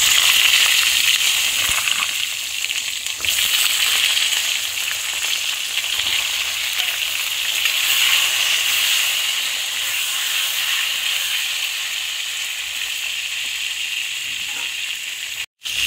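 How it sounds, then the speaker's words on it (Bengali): Pointed gourd frying in hot oil in a kadai gives a steady, loud, close sizzle with bright hissing throughout and a brief drop near the end. "পটলগুলোকে একটু ভাজা ভাজা করে নিতে হবে প্রথমে।"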